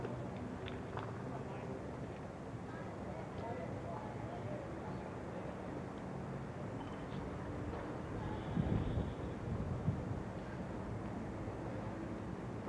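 Gusting wind at an outdoor tennis exhibition semifinal at Kooyong, a steady broadband rush buffeting the microphone throughout, swelling louder in gusts near the end, with a faint voice in the background.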